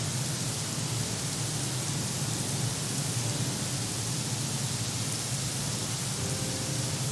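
Rain falls steadily in the video game Craftopia, a constant even hiss of downpour with no breaks and no voices.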